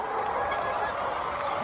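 A dense, continuous chorus of chicken calls in a dim poultry house during a power outage after a typhoon, many birds gobbling and squawking together at close range without any talking.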